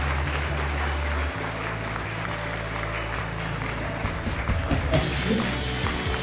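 An audience at a school event in Shimla honouring meritorious students keeps up a continuous wash of applause, with a low steady hum beneath it and some louder, uneven clapping toward the end.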